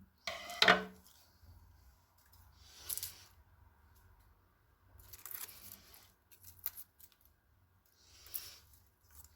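Scissors trimming the stems of a Tradescantia zebrina houseplant make scattered snips and crisp rustling sounds in short bursts with quiet pauses between, close by and fairly soft.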